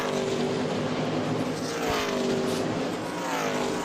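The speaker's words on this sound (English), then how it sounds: "So it's going to be 2 Toyotas coming home 1 and 2 as they come through turns 3 and 4 for the final time here at New Hampshire." Toyota NASCAR Xfinity Series race cars roaring through turns three and four at New Hampshire, a loud, steady engine howl with a crowd-like wash behind it.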